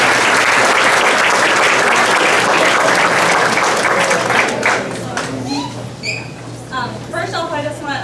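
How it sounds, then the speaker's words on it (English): Loud audience applause and cheering fill a football awards ceremony for middle school cheerleaders, steady at first, then thinning into scattered claps with a few whoops and voices near the end. "give a round of applause"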